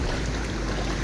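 A forest waterfall pours out a steady, full rushing roar that fills the short stretch alone, broadband and even with no breaks.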